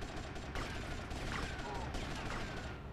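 Gunfire rings out in Grand Theft Auto: Vice City as shots are aimed at boats from a ship, several sharp reports spaced across a steady, noisy game soundscape.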